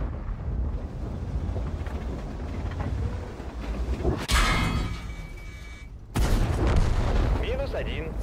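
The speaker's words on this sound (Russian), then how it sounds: "Выстрел." A tank cannon fires in a tank video game with a sharp loud boom, followed by a second abrupt blast a couple of seconds later, over a rumbling engine and wind-like noise, with voices in the background.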